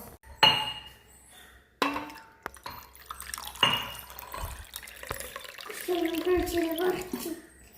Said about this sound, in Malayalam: ഒക്കെ വെള്ളം ഒഴിച്ചു കൊടുക്കാം.